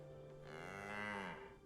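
An ox in the Baldur's Gate 3 video game lets out a single long, low moo that swells and then fades, heard clearly on its own.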